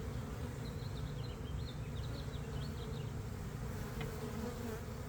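A honeybee swarm buzzing at the hive, a dense continuous low drone with faint higher individual bee whines drifting over it, steady and close, no talking.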